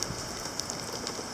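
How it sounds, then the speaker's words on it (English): Rain falling steadily on a surface, a dense hissing patter with scattered small drop ticks, close and even throughout a brief stretch with no voices. "Still raining."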